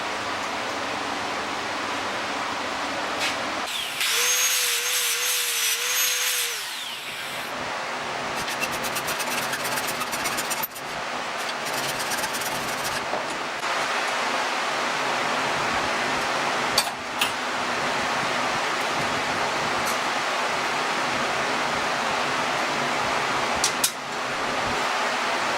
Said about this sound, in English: I'm going to go back and grind this figure 8 out of here and make it look a little more like an oval